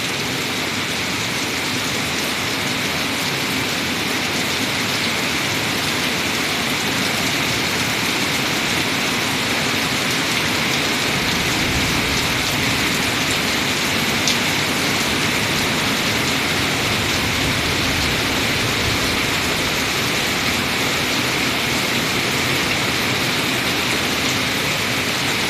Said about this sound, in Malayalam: കാഞ്ഞിരപ്പള്ളി ആനക്കല്ലിൽ വൈകുന്നേരം 5:30 പെയ്യുന്ന മഴ